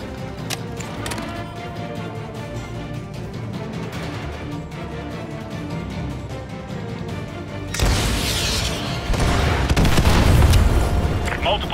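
AGM missile strikes in Call of Duty Modern Warfare 2 Remastered, Contingency mission, erupt into loud, sustained booming explosions over steady battlefield noise, building to a heavy roaring blast toward the end.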